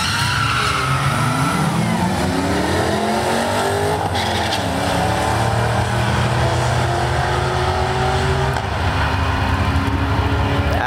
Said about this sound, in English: Pontiac Grand Prix Tower side, taking on a GT Mustang in the right-hand lane.